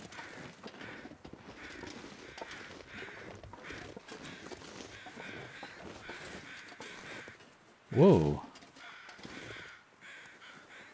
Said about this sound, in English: Crows in the distance.